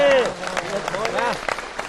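An audience claps for a Hindi poetry recitation on a television studio set, with dense, steady applause running under a voice as he speaks over it.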